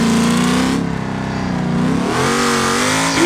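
A 1500HP sandcar engine in BeamNG revs hard in the dunes, a loud, close, continuous growl that dips briefly and then climbs again as it accelerates.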